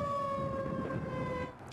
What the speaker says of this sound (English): If the siren sounds a second time, it means the threat is continuing or there is another storm on the way.